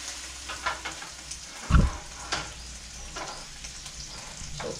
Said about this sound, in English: So don't be afraid, just stir evenly around the pan.